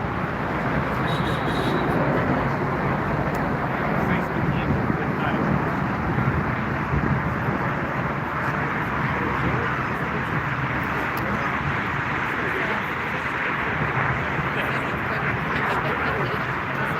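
An Air Dolomiti Embraer 190 jet touches down at Frankfurt Airport, a steady, loud broadband roar and rumble of engines and rolling that holds evenly throughout, with outdoor wind noise mixed in.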